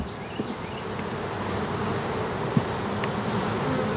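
A steady swarm of honey bees buzzes continuously as they are shaken off a brood frame, close and moderately loud, with a few individual insects droning past.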